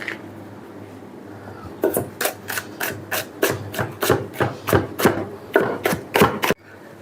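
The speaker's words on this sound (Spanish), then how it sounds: "Se le quita lo que es la parte del rabo, digamos, y se parte en juliana también" A knife chops green pepper into julienne strips on a board, about a dozen quick, evenly spaced cuts close up, with a brief pause partway through.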